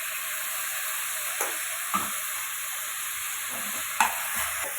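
Onion and tomato sizzle steadily in a pan for paneer butter masala, a continuous bright frying hiss with a few light spatula taps and scrapes.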